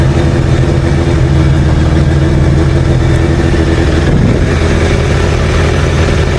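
A Suzuki Bandit motorcycle engine idles loudly and steadily up close at about 600 rpm, a constant rumbling drone with no breaks.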